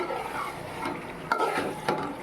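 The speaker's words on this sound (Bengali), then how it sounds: "নেড়ে দিচ্ছি" Mutton curry being stirred in a pan with rich fat, a steady low sizzle underneath and a few distinct scraping strokes of the spoon, close and moderately loud.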